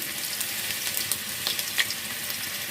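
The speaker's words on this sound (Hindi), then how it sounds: "1 मिनट के लिए हम फ्राई कर लेते हैं लहसुन और प्याज को।" Garlic and onion frying in oil heated to full on a stove, a continuous light sizzle with small crackling pops scattered through it, heard alone at moderate volume.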